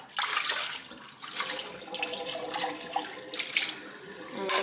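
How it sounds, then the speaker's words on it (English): A container is rinsed under a running kitchen tap while making homegrown herbal tea and elderberry syrup, with water splashing and sloshing in uneven bursts, close and fairly loud, without talking. "So we're gonna rinse this out"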